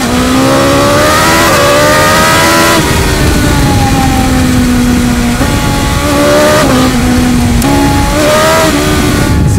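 A 2021 BMW S1000XR sport-touring motorcycle is ridden hard, its engine screaming loud and near through repeated rising revs and sudden pitch drops at each shift. No speech.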